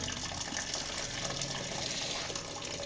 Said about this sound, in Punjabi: ਆਪਣੇ ਚੌਲ ਜੀ ਜਿਹੜੇ ਉਬਲੇ ਤੇ ਪਾਣੀ ਉੱਤੇ ਫਿਰਦਾ ਇਹ ਪਾਣੀ ਹੁਣ ਕੱਢਣ ਦਾ ਤਰੀਕਾ ਦੱਸਦੀ ਆ